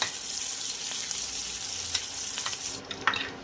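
Chopped onion frying in a pan for a Bengali chicken kosha, giving a steady close sizzle with a few brief stirring clatters near the end.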